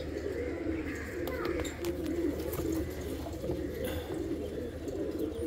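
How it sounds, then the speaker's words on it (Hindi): Young teddy pigeons coo softly and steadily in a loft, their low murmuring calls overlapping throughout, with faint rustling and background ambience. "7 पीस 2000 रुपया पर पीस, सब यंग कबूतर है"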